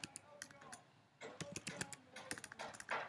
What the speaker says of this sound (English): now just type cd desktop